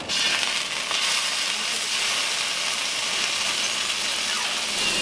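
Fish pieces coated in teriyaki and garlic salt sizzle in a hot pan, a loud, continuous close-up hiss and crackle that holds steady throughout with no talking.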